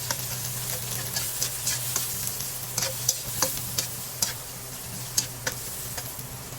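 Onion frying in reused cooking oil in a pan, a steady low sizzle broken by scattered crisp pops and clicks of stirring, close and moderate in level with no voices.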